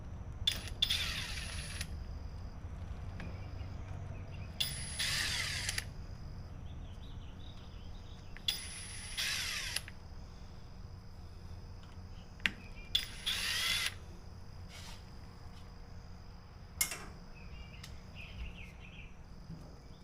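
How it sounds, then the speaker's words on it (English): Several short bursts of a whirring power tool removing a spring from a Briggs and Stratton 8HP engine recoil, each a second or so long, separated by quieter stretches with small metallic clicks and rattles. "I could use a power tool to help me out a little bit here."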